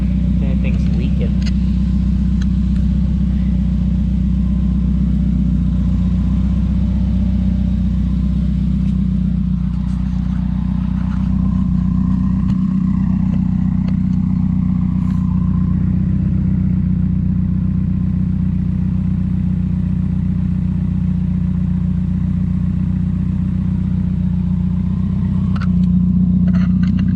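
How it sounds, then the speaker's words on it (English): A 2017 Subaru WRX Premium idles with a steady, loud, rumbling engine drone that barely changes for the whole stretch, with no clear rev spikes standing out. "Do a couple revs."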